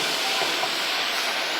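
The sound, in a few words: meat being stir-fried in a pan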